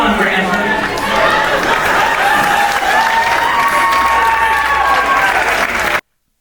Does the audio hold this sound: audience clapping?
yes